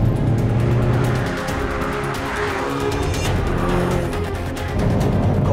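A Hyundai i30 N race car roars at high speed around a race track, its engine loud and sustained, with a brief tire squeal as it pushes through a corner.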